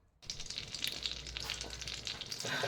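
Butter frying in a pan, a steady crackling sizzle that starts abruptly after a moment of quiet and continues close and even throughout.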